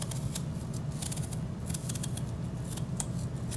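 A knife peeling an apple with a run of small cuts: crisp, quick, close snipping and scraping strokes repeating steadily throughout, with no voices.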